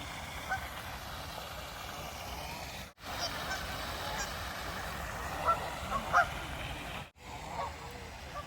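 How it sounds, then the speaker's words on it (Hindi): Ducks by a lake give a few faint scattered honking quacks over a soft outdoor wash of ambient noise during an evening walk, distant and sparse. "सारे के सारी डक्स जो हैं वो फाइनली अपनी लेक के अंदर जा रही हैं"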